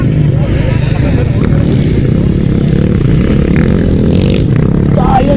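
A motorcycle race where one bike falls: continuous loud engine roar and crowd noise with a steady din throughout, and excited commentary running over it.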